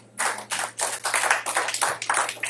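A church congregation claps in rhythmic unison, a brisk run of bursts of hand claps during a Sunday worship service, loud and close with a low steady hum beneath.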